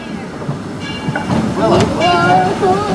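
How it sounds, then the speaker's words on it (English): Disneyland Railroad train in Anaheim, California rumbling along the tracks at close range, a steady mechanical roar with clattering wheels and a squealing tone, continuous and fairly loud with voices mixed in. "please remain seated until the train comes to a full and complete stop inside the station"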